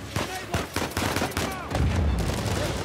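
Rapid bursts of gunfire in the video game Uncharted 4, several sharp shots in quick succession followed by a heavier rumbling blast, loud and close with a faint voice underneath.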